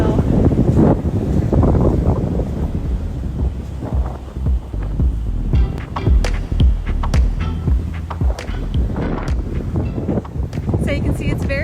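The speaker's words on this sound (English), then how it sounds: "So you can see it's very windy today." Strong wind at a beach near Fremantle, Western Australia, buffeting the microphone with loud, gusty low rumble throughout, and a person speaking over it.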